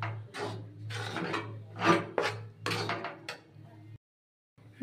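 Hands knead rice flour dough mixed with hot water and salt, making irregular rubbing and squishing strokes close by, with a short silent gap near the end.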